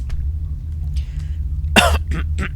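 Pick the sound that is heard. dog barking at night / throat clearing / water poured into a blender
throat clearing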